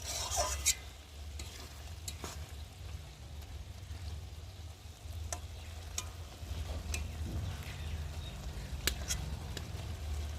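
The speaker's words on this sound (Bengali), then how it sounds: "আর এখন আমি মাছটাকে একটু ভালো করে নেড়ে দেবো আলু বেগুনের সাথে।" Fish curry with potato and eggplant stirred in a pan, with occasional utensil clicks and scrapes over a low, steady simmering rumble, fairly quiet.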